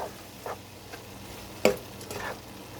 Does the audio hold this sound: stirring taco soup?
yes